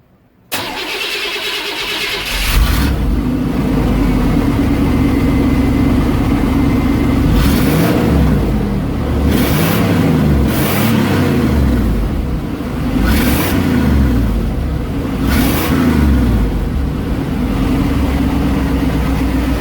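A 1990 Chevrolet K1500 pickup with a cheap aftermarket exhaust cranks and fires after a brief silence, then runs steadily with a loud, rumbling idle and a few small revs, close by in a garage.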